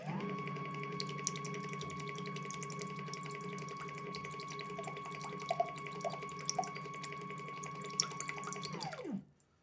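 A SATURO infiltrometer pump purges water through its line with a steady mechanical hum and faint trickling and dripping, running alone for several seconds before cutting off abruptly.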